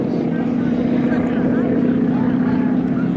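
An aerobatic plane flown by Kevin Russo at the 2024 First State Airshow, a steady loud propeller-engine drone with a sustained low hum, continuous and unbroken throughout.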